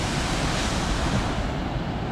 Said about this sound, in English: Oh, that was a big wave. Just the waves break on here.